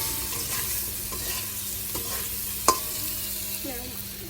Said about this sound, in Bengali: এই সাইডে আলুগুলো কষিয়ে নিচ্ছি